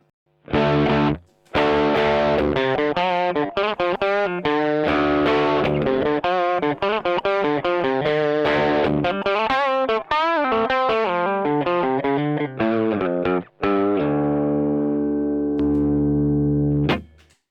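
An electric guitar plays a busy phrase through an effects pedal, giving a warbling, distorted tone, with brief gaps and a sustained final chord that fades.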